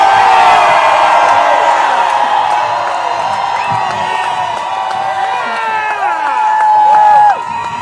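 A huge crowd at an anti-fracking rally in Albany cheers and whoops loudly and steadily, shouts rising and falling throughout, with some clapping mixed into the roar.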